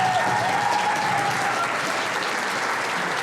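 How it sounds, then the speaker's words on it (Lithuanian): An audience claps loudly and steadily in a school hall, welcoming a beloved English teacher onto the stage. The applause stays continuous and even from start to finish, with no voices over it. "labai prašau jūsų gausiais plojimais pasitikite mylimą mokinių anglų kalbos mokytoją Jūrą Žiaukienę"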